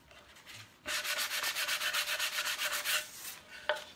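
Sandpaper rubbed by hand over a wine decanter to distress its finish, a steady run of about a dozen quick rhythmic scrubbing strokes, close and fairly quiet, followed by a single brief scrape.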